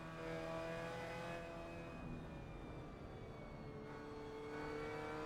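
Mazda MX-5 engine in a VR racing game on the Nürburgring Nordschleife, a steady droning whine with rising and falling engine pitch as the car drives, continuous at moderate level with no talk.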